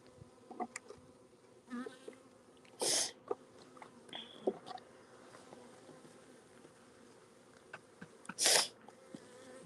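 Bees buzzing around a hive outdoors in winter, with a few loud close passes as individual insects fly near, over a quieter background hum.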